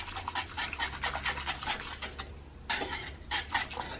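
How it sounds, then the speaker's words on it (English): A whisk stirs polenta nonstop in a pot, making rapid, rhythmic scraping strokes that run without a break, close and clear. "You don't stop whisking. You don't stop whisking. Continuous whisk."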